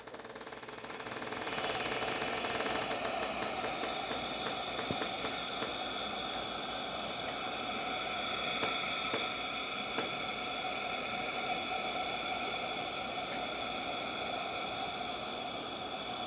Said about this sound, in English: You don't want to blow too much air either, even with my regulator on